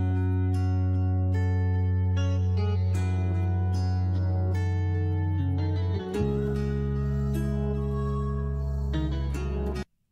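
A fast, high-pitched music beat plays continuously with bright, sped-up tones and a deep sustained bass, cutting off abruptly at the end.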